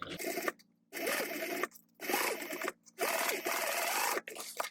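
A sewing machine back stitches a tote bag in loud, buzzing bursts of stitching, each lasting about a second and separated by short pauses.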